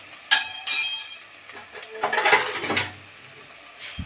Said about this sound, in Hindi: इसका ढक्कन लगा के मैं इसे धीमी आंच में बनाने के लिए रख दूंगी